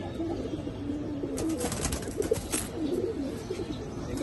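Silver-coloured pigeons coo in a low, repeated murmur, fairly close, with soft rustling and faint background noise throughout and no talk.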